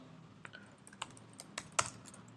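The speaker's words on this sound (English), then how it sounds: "then typing the commit message here" A commit message is typed on a computer keyboard, a handful of irregular soft key clicks with one sharper tap near the end, quiet and close.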